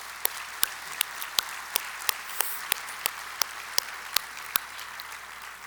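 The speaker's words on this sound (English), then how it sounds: "Please join me in a round of applause for Jean-Yves Le Gall." Applause for Jean-Yves Le Gall at the IAC 2019 closing ceremony in Washington, D.C., a soft wash of distant clapping from a large audience punctuated by regular sharp, close claps about every third of a second.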